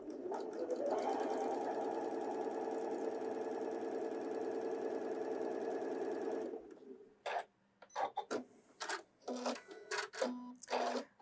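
A Janome computerized sewing machine stitches fabric in a steady, fast mechanical whir for about six seconds, then stops and gives a string of short, separate bursts of stitching with brief pauses between them.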